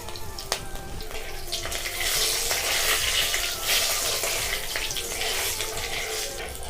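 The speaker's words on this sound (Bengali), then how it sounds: "ফোড়নে আমি 2টো তেজপাতা দেবো, ছোট ছোট তেজপাতা, 3টে শুকনো লঙ্কা আর 3টে কাঁচা লঙ্কা আর 1 চামচ কালো জিরে" Bay leaves, dried and green chilies and nigella seeds fry in mustard oil as a tempering for kochu shak, a steady, close, hissing sizzle that swells slightly midway and carries on without speech.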